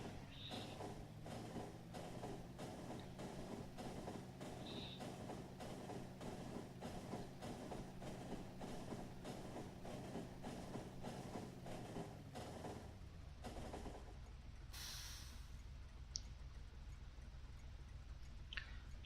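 A freight train in the Factorio video game rolls past with a steady rhythmic rumble and clatter, carrying on for several seconds before the sound thins out and fades near the end.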